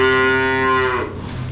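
A weaned calf in a pen lets out one loud, close, drawn-out moo that fades after about a second, with no talking.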